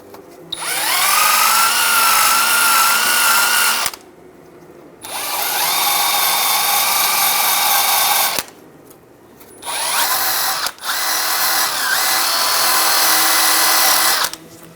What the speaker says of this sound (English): Using a wire wheel, we're going to clean the 3 contact points for the shoe on either side.